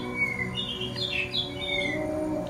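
A Yorkshire canary gives short, shrill squawks and chirps while held by hand, fairly close but soft, repeating in quick bursts over a faint background hum.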